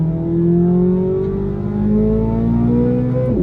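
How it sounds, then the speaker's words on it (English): A Chevrolet Corvette C8 Z06's naturally aspirated V8 revs out hard, a loud rising engine wail heard from inside the car that climbs steadily, dips briefly at a shift, then continues. "Listen to this V8 rev out."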